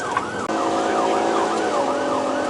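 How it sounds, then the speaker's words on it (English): A police siren wails loudly and continuously, its pitch sweeping up and down in a repeating cycle over road noise. "I still hear lights and sirens."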